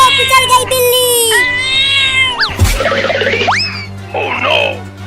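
Cartoon cat crying after being run over by a bicycle: a string of high, wavering meows and wails with a springy boing-like sliding effect in the middle, loud and close, amid other cartoon sound effects.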